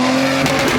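A turbocharged Lexus IS300 held on two-step launch control, its exhaust crackling and popping in a short loud burst with a steady engine drone underneath.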